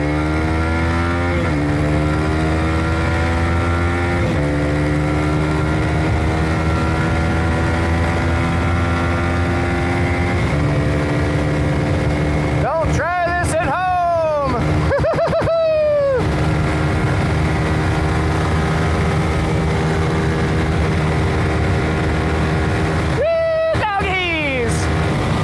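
A Honda CRF300L dirt bike with custom EFI tuning, its single-cylinder engine revving loud and close while riding, climbing through gears with repeated throttle blips and sharp dips as it changes load.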